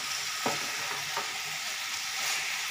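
Jackfruit curry with potatoes being stirred in a pan, a soft even sizzle with two or three scraping strokes of the spoon, close and steady.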